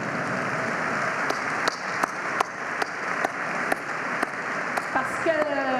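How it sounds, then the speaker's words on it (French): Audience applause from a live talk about building a sailing crew, sparse scattered claps ringing out at an irregular, uneven pace for several seconds, with a voice coming in near the end. "Vous pourriez applaudir de temps en temps"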